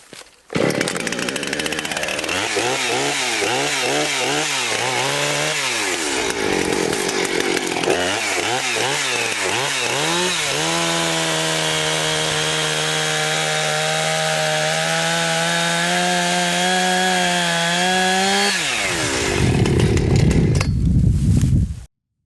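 A chainsaw roars steadily and close, revving in bursts and then bogging down under load as it cuts through spalted wood, dying away at the end.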